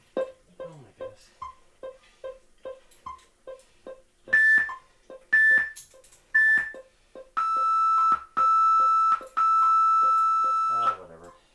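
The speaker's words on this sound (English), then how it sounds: "So, there's the timer." A kitchen-style timer beeps in a steady run of about ten short, evenly spaced pips. It then gives a few louder tones and ends with three long, loud sustained beeps.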